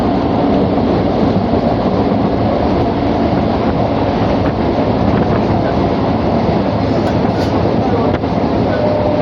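Steady rumble and rattle inside a moving local train bound for a station in West Bengal, a loud continuous drone of wheels and carriage throughout, with no talk.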